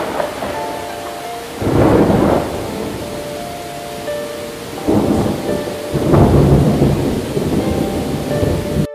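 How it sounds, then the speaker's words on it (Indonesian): Heavy rain pours steadily while thunder rolls and booms in several loud swells, with no other sounds present. "Tengah hujan deras itu,"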